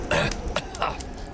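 A few short, harsh coughs in quick succession, close and fairly loud, with no talking.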